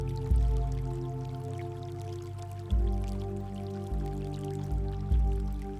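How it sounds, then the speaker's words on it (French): Soft water drips and gentle trickling in a calm meditation soundscape, a few slow plops over a steady low hum, quiet and close. "Écoutez le son de l'eau."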